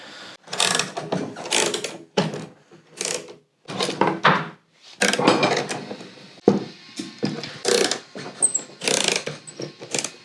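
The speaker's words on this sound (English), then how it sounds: "These ratchet clamps are cool." Ratchet clamps are cranked tight on a block of ash for a guitar build, one of them with a faulty ratchet. Close, crisp clicking bursts come in uneven runs with short pauses between them.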